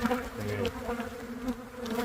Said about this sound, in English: These bees, they are definitely not happy.